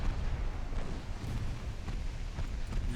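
Heavy naval gunfire from warships in the video game Ultimate Admiral Dreadnoughts, light cruisers pounding a destroyer, a dense continuous rumble of booming shots and blasts with no speech.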